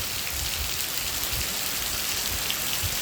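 Steady heavy rain pours down in Rajasthan, a dense unbroken hiss of drops hitting surfaces, loud and close throughout.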